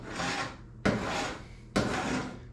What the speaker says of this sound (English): the tool is doing a little bit of scraping, but it's not doing terribly much there